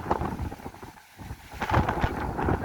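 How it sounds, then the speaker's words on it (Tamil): Strong wind gusts across a seafront during a sea surge, a rough broadband roar that dips briefly near the one-second mark before surging back louder and steady. "உங்களுக்கு இந்த காற்றின் சத்தம் கேட்டு கொண்டிருக்கும் பாருங்க"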